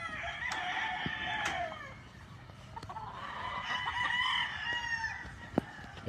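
Chickens on a Philippine farm during vaccination cluck and call steadily, with layered overlapping bird voices and a few sharper cries, moderately close and continuous throughout.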